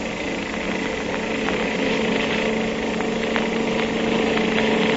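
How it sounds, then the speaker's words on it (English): Motorcycle engine effect for an old radio crime drama: a continuous, fairly loud, rattling engine drone with a steady putter, sounding thin and band-limited like an old recording, with no voices. "Now, this motorcycle can certainly travel."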